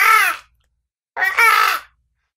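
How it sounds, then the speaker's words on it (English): Two harsh crow caws, the first about half a second long and the second longer with a slight break, separated by a pause of silence, close and fairly loud with no talk. "No, it sounds like a crow."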